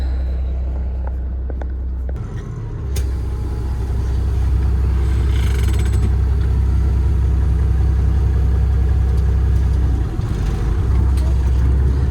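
A 1994 Peterbilt truck engine idles steadily and close, a low continuous rumble as it airs up, with a brief quieter moment near the start before the running sound settles in for the rest.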